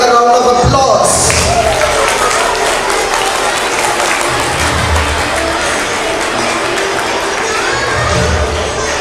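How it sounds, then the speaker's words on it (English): A school audience at a patriotic competition applauds after a fashion show round, loud sustained clapping from a large crowd with some cheering and shouting, starting abruptly and holding steady throughout. "let's give him a round of applause"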